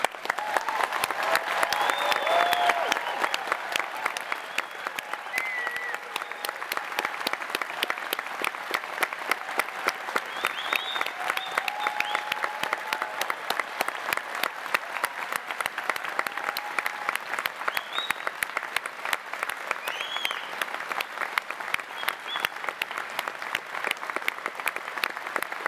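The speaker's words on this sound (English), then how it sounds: "we'd like to give you a very big round of applause" Long, steady applause from a large crowd for graduates at a Salford School of Arts, Media and Creative Technology graduation ceremony, dense rhythmic clapping holding at an even level throughout with a few faint cheers.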